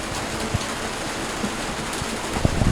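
Heavy rain pours down steadily outdoors as a dense, even wash of noise, with a few louder splats and knocks rising above the constant downpour.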